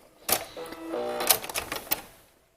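A home sewing machine stitches along the side seam of a romper or dress, its quick mechanical clatter coming in short bursts with a brief steadier run in the middle, close and fairly quiet.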